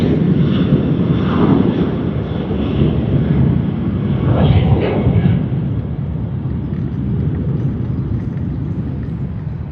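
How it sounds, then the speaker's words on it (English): Qantas Boeing 737 taking off at Sydney Airport, a loud, steady jet engine roar filling the whole stretch, swelling slightly midway and holding as the airliner climbs away. "What a lovely takeoff."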